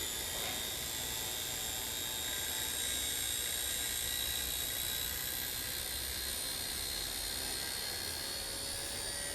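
An XK K110 Blast 6CH RC helicopter's rotor spins up under slowly increasing throttle, a constant close, high-pitched motor whine and whir that holds steady throughout with no talk.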